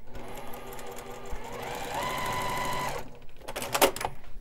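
Close, loud sewing machine stitching down the ends of a quilt hanging sleeve, a fast even whir of needle strokes for about three seconds, then a pause and a short burst of clattering handling sounds.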